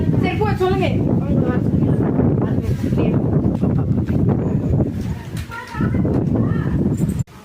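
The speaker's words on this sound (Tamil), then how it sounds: "மக்களே காத்து எப்படி அடிக்குது பாருங்க, சும்மா வேற லெவல்ல புயல் காத்து வருமே" Strong storm wind roars and gusts steadily across the whole stretch, with voices audible beneath the blowing.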